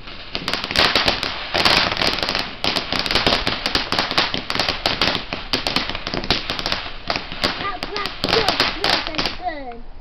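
Firework going off on a garden path, a dense rapid string of loud crackling bangs and pops that runs almost continuously, heard nearby outdoors with people's voices faintly mixed in near the end.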